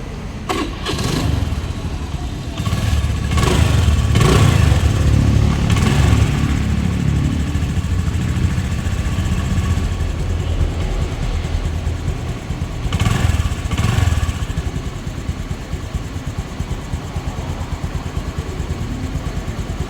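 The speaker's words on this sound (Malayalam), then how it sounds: "ഞാനിപ്പോൾ അത് ഓണാക്കി തരാം നല്ല സ്മൂത്ത് എഞ്ചിനാണ്" A 2015 single-owner vehicle's engine cranks and starts, then settles into a steady smooth idle, loud and near, with a brief rev partway through.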